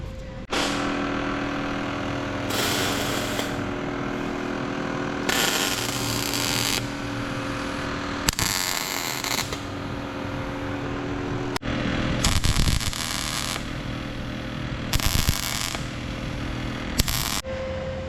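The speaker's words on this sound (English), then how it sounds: "okay, so I've finished welding now" Holes in an R32 GTR sub-frame are welded shut in a workshop. Several separate bursts of harsh buzzing arc, each a second or two long, are spaced by short pauses over a steady background hum.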